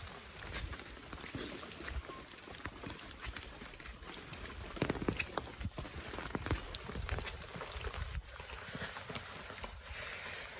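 Rain falling outdoors during saltfish, fry dumpling cooking, a soft continuous patter with scattered heavier drips and taps, fairly quiet and close.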